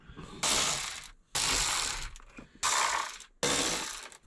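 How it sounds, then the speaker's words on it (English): A ratchet wrench backs out dashboard bolts inside a Ford truck: four separate bursts of rapid, loud clicking, each close and alone with brief pauses between. "So I'm going to go through, get these 4 bolts out"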